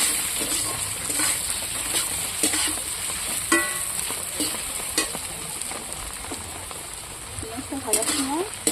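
Onions frying over high flame in a pan for chicken biryani, a continuous bright sizzle with scattered stirring scrapes and clinks, fairly close.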